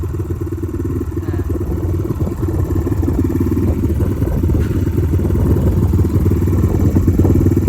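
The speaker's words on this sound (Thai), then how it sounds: "โอเคครับเดี๋ยวขี่รถก่อน" A Kawasaki KLX150 motorcycle with a tuned engine rides along with a steady, fairly loud mid-pitched drone and a busy, rattling exhaust note that holds for the whole stretch.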